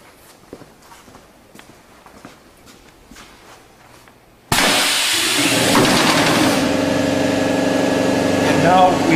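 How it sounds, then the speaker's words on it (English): A cushion filling machine runs a dry cycle. Quiet footsteps and shuffling come first, then a sudden loud, steady pneumatic hiss and mechanical hum that continues to the end. "Okay, we'll dry cycle the machine."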